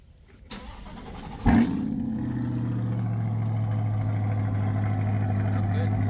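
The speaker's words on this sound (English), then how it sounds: "Let's hear the exhaust." A modified C8 Corvette with heads and cam fires up with a sharp bark, then settles into a loud, steady, deep idle that holds nearby.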